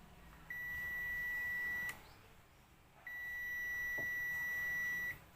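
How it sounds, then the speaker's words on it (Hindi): Multimeter continuity beeper sounding while an IGBT in an inverter welding machine is tested for a short: two long steady electronic tones, each about one and a half to two seconds, separated by a brief pause, close and clear with no talk. "अब हम इसको बीप के साउंड में IGBT को देखते हैं। तो ये सही में शॉर्ट बता रहा है।"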